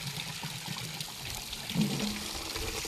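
Water pours steadily from a spout or fountain into a tank used for washing clothes, a continuous splashing trickle that stays fairly even and close, with no talking over it.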